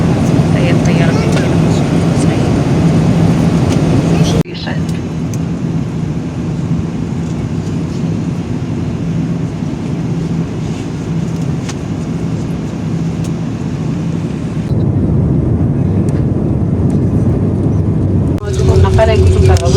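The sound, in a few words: airplane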